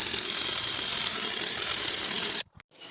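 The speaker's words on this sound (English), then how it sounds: "Otherwise, we can use an eraser wheel." Eraser wheel spinning against car paint to strip emblem glue and foam from a Range Rover body, a loud steady high whine that cuts off abruptly near the end with a couple of brief bursts after.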